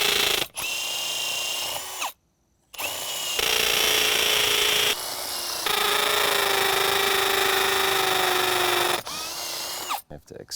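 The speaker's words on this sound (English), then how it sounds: "drill this out." A power drill whirring in several bursts, boring into a wooden deck post with a steady high whine, stopping and restarting between pushes.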